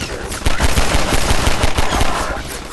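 Gunfire in Half-Life 2, with antlions close by: a fast, unbroken burst of rapid shots, loud and near, running for about three seconds over the noise of battle.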